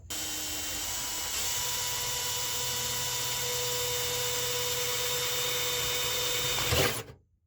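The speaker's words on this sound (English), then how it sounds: "I can run the drill straight" A power drill whines steadily at close range for about seven seconds, its motor pitch constant, then spins down and stops abruptly.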